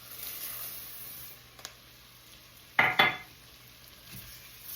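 Arborio rice stirred around a hot pan for steak risotto, a low background hiss broken by a short burst of scraping and rattling grains near the middle, then quiet again.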